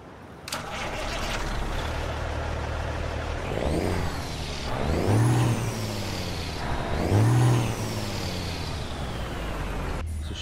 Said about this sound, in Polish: posłuchajcie ten silnik